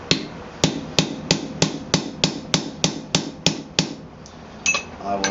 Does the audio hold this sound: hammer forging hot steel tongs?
yes